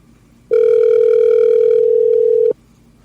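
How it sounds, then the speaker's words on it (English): An outgoing telephone call rings in the earpiece: a single loud, steady electronic ringback tone lasting about two seconds, close and clear with nothing else over it. "We're going to try to get a hold of Willie on his little getaway."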